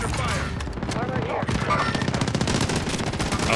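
Rapid SMG gunfire in Call of Duty: Warzone rattles in dense, loud bursts of repeated shots, with a voice briefly heard early on amid the shooting.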